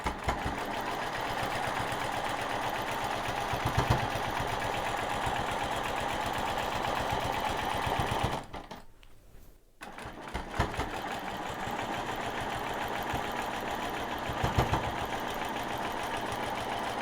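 A sewing machine stitches in the ditch on a quilt, its needle running in a fast, steady mechanical chatter close by, pausing briefly partway through before resuming at the same even pace.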